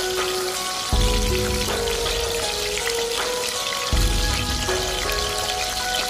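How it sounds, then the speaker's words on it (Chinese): Scallion pieces and ginger slices stir-fried in hot cooking oil in a heated clay pot give a steady crackling sizzle, with a louder low-pitched surge of stirring around the first and fourth seconds, heard alone. "将砂锅烧热，倒入食用油，然后把刚才切好的葱段、姜片放入锅中，再快速的翻炒，炒出香味"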